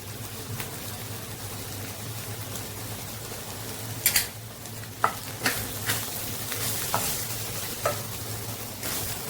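Okra and potato masala with ground coriander, cumin and dry mango powder being stirred in a pan, a low steady sizzle broken by several sharp spoon scrapes and clicks against the metal.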